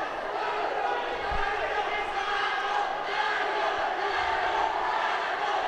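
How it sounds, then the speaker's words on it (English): Boxing arena crowd at a flyweight quarterfinal bout, Philippines versus Indonesia, screaming and roaring in a steady dense wash throughout, loud and continuous with a few faint thuds underneath. "The crowd screaming"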